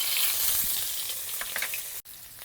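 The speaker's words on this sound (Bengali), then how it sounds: "তেলে অল্প সর্ষের তেল দিয়ে দিলাম, 1/2 চামচ রসুন বাটা," Garlic paste spitting and sizzling in hot mustard oil, a steady bright fry with a few small pops, broken by a sudden brief dropout near the end.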